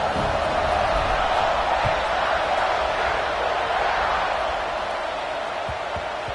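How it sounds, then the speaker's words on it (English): Dense, steady roar of a large football stadium crowd buzzing between plays after a score, loud and continuous throughout with no distinct voices standing out. "this crowd is buzzing after that last score"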